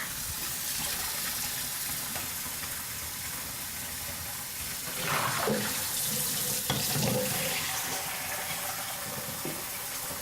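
A kitchen sink tap runs steadily in a home kitchen, a broad hissing stream of water close by with brief splashy surges partway through and no talking.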